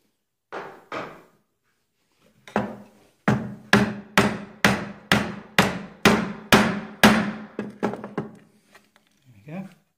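A chisel struck with a mallet chops a mortise in wood, sounding as a few loud knocks, then a steady run of about a dozen close, sharp blows with quieter taps toward the end.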